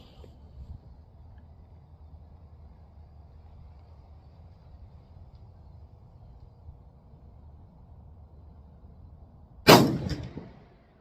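A .308 rifle fires 178 grain AMAX hand loads, one loud sharp report near the end after a long stretch of low, quiet outdoor rumble.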